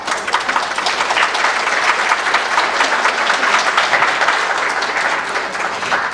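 An audience at a candidate forum breaks into sustained applause, dense, loud clapping filling the room evenly for around six seconds with no speech over it.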